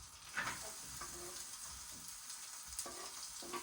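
Onions sizzle and fry in hot butter in a pan for egg fried rice, a steady crackling hiss with a few brief spatters and scrapes, moderately quiet and without voices.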